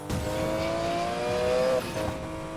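A 1980s Porsche in the Need for Speed Payback racing game, the engine droning at a steady high pitch that rises slightly before a brief gear-change dip, loud and close with no talking.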